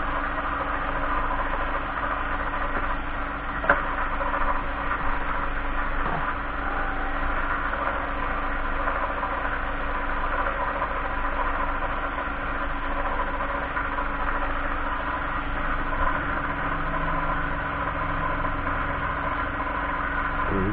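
A woodturning lathe hums steadily at a constant speed with a low motor drone while a hard microcrystalline wax stick is pressed against a spinning pen blank, with faint occasional ticks.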